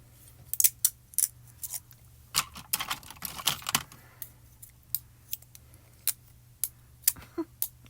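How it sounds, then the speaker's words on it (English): Scissors snip through patterned paper for card making, a series of crisp, close, irregular cuts with short pauses between, quiet and without talk. "Try to cut it without the scissors sticking to it."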